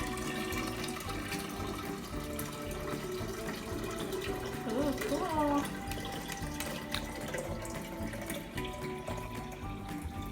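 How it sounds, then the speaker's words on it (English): Steady water pours and splashes continuously into a container of peach basil lemonade, with a voice briefly speaking partway through. "And then we're just gonna top it off with water."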